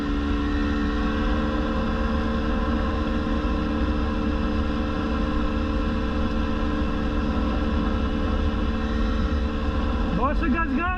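A 2022 GasGas EC 300 two-stroke enduro motorcycle runs at a steady idle nearby, an even droning engine note that holds unchanged throughout, with a brief voice near the end.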